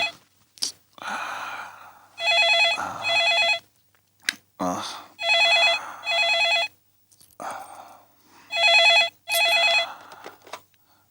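A telephone rings in repeated electronic trill bursts, three or four rings with pauses, close and fairly loud, with short sounds of movement between them.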